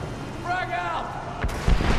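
A grenade goes off in Batman Arkham Origins multiplayer: a short shouted voice, then a sharp, loud blast near the end followed by a second heavy thump.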